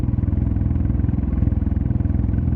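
Row of motorcycles idling on a road, a close, loud, rhythmic chugging and clattering engine pulse that holds steady throughout, no speech.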